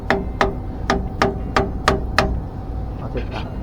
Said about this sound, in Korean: 망치로도 해보는 거죠.